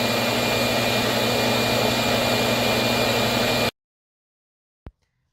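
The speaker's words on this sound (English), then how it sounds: "So it is pretty loud when it empties the dustbin." A robot vacuum's dock empties the dustbin with a loud, steady roaring whoosh that cuts off abruptly, followed by a single short click about a second later.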